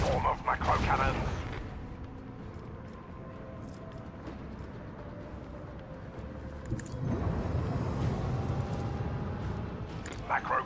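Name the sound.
macro-cannons firing in video game Warhammer 40,000: Rogue Trader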